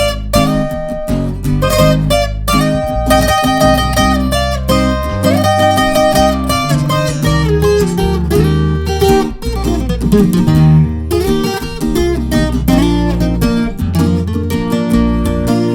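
Requinto guitar lead in a Mexican style, played at normal speed as fast, dense runs of plucked notes over a steady strummed backing, close and bright with no talking.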